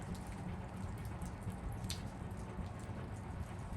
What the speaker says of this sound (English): we have some slight drizzle